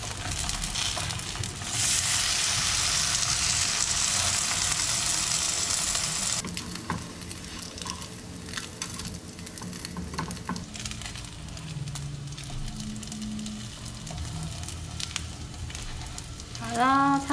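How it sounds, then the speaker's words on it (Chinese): Moon shrimp cakes pan-fry in hot oil until both sides turn crisp. A loud, steady sizzle fills the first stretch, then drops to a quieter crackle with occasional scraping and stirring. A brief clatter sounds at the end. "煎到两面都这样焦焦的"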